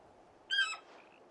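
A bird lets out a single short squawking call in Final Fantasy XVI, bright and harmonic, rising out of a quiet background and trailing off into a faint whistle.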